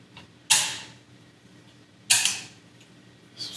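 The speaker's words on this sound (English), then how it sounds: "return the bolt to the rear" The bolt of a Poly Tech AK-47S rifle is racked twice, each a sharp, close metallic clack with a brief rattle, the two about one and a half seconds apart in a quiet room.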